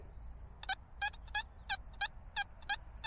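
Metal detector set to 17 kHz gives a series of short, bright, warbling beeps in irregular pairs and singles, heard clearly over a faint low background hum, with no one talking.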